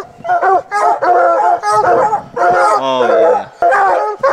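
Hunting dogs on a mountain lion chase in rugged canyon terrain bark, bay and howl close by in rapid overlapping bursts, with a brief human exclamation among them.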